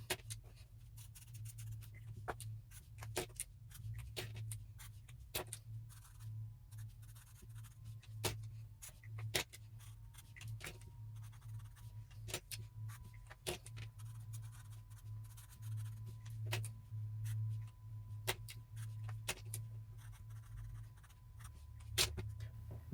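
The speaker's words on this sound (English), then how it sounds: "Let's write a little rule here." A pen scratches out a short rule on paper or a board at close range, with soft, irregular strokes and taps over a steady low hum, and nobody speaks.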